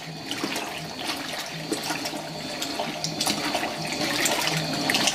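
A Fisher & Paykel Smart Drive GW712 top-load washing machine filling with water, a steady close rush and splash of incoming water that grows slightly louder, with no talking.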